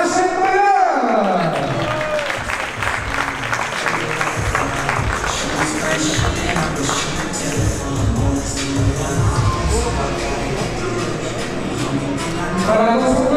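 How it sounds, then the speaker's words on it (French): Spectators at a French MMA championship applaud and cheer a women's title winner. The steady, loud clapping and whoops run throughout, with an announcer's amplified voice carrying over the crowd. "on peut applaudir donc la championne de France team Air Fight Paris, Mathilde Aschenbrenner"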